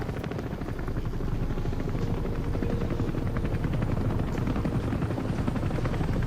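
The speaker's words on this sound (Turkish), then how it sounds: "uçak var" In the Metal Gear Solid 5 video game, an aircraft with a helicopter-like rotor drones steadily overhead, loud and continuous throughout with a dense, buzzing beat.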